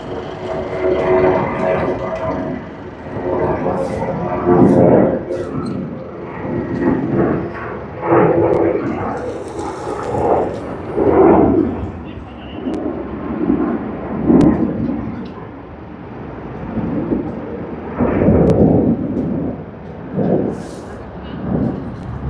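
Thai Airways Airbus A350-900 departing Sydney Airport for Bangkok, a loud rolling jet roar with pulsing, rumbling swells, with a voice talking intermittently over it.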